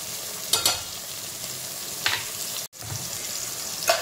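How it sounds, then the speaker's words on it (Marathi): Onion and tomato sautéing in a pan on a low flame, a gentle, even sizzle with three brief spatula scrapes and one short cut-out. "त्याला व्यवस्थित परतून घेऊया थोडा वेळ"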